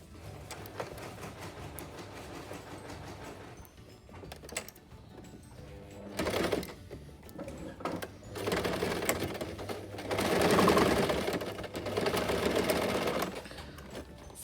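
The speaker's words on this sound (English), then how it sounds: "you've made your opening, you've sewed the first seam together." A sewing machine stitches the seam of a pleated fabric face mask in short bursts of rapid mechanical whirring and clatter, quiet at first and louder toward the end, with small handling noises between runs.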